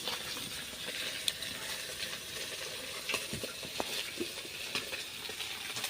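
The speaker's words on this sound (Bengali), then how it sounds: "গুঁড়ো মাছও অর্ধেক ভাজা হয়েছে এই যে অর্ধেক আরও কিছু বসে দেওয়া হয়েছে" Small fish frying in oil in a pan, a steady broadband sizzle with scattered soft crackles and a few sharper pops, moderately loud and close, with no talk.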